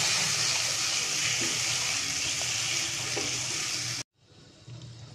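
Tomato and green chili paste fries in a pan with a steady, fairly loud sizzle for about four seconds, then cuts off abruptly and gives way to quieter background noise.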